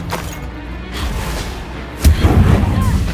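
The Confringo fire spell blasts in the Hogwarts Legacy video game: a sudden loud explosive boom about two seconds in, trailing into a rumbling after-roar over low game ambience.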